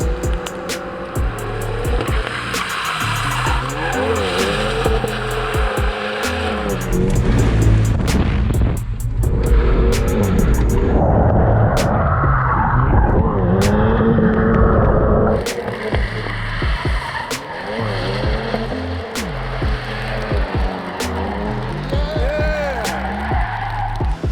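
A front-wheel-drive car sliding on a tray slide rig, its engine revving and straining loudly with tires skidding and squealing in long bursts, with rattles and bangs and some voices in the background.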